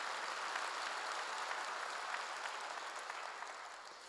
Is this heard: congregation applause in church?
yes